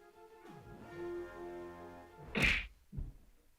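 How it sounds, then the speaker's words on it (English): A sharp whacking punch effect lands in a film scene over a musical underscore, followed by a second, softer thump a moment later. "The punch sound."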